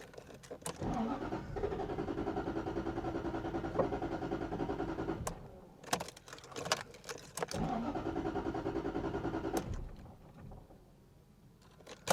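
A troubled, smoky Jaguar XK8 cranks with fuel pumped in by hand. The starter churns in two long rhythmic bursts separated by clicks and pauses, close and fairly loud, with no talking.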